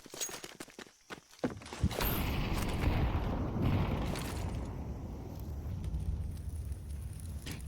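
A grenade goes off in a Counter-Strike match: a few sharp clicks, then a loud burst that settles into a long hissing, rumbling roar lasting several seconds, with no voices.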